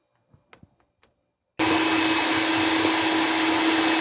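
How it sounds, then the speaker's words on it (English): An electric mixer starts up after a few faint taps and then runs steady and loud at low speed, whisking for a floating island dessert. "so now we just start whisking at a low speed."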